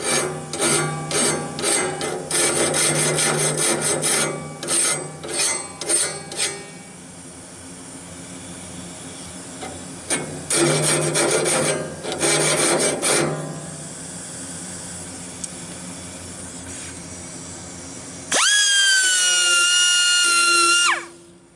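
A hand file rasps across the teeth of a band sawmill blade in quick repeated strokes, in bursts separated by pauses, close and loud, ending with a high steady whine.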